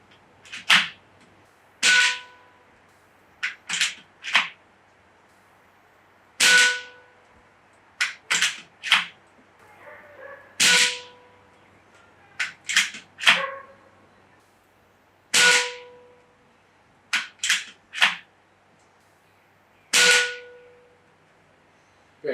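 An AEA Challenger Bullpup .25 caliber PCP air rifle fires pellets in a backyard. Sharp, close cracks come one after another at uneven intervals, roughly ten shots in all, with quiet between them.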